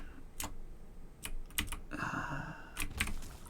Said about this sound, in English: let the click-clack of the keyboard and the wonderful, horrific ambient sounds of Isaac do the talking